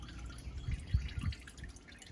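Engine oil draining from a 2019 Sprinter six-cylinder diesel, soft irregular dripping and trickling, quiet and close.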